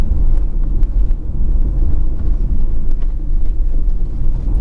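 A Honda HR-V drives over a bumpy neighborhood road, heard from inside as a steady low cabin rumble with soft thumps from the uneven surface, no talking.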